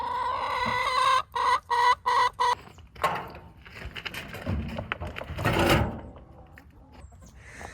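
Chickens cluck and squawk in bursts up close, with a Barred Rock rooster's call standing out among the flock's chatter.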